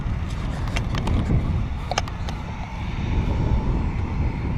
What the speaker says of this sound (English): and there goes an airplane.